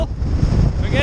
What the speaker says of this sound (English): The wind is going like over here, so you're not gonna be able to hear me, but the wind's really strong